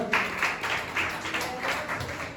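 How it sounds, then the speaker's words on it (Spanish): Congregation clapping in a church service, a moderate crowd applause in loose rhythmic bursts, heard from a slight distance with some room echo. "Dale ese fuerte aplauso al Señor"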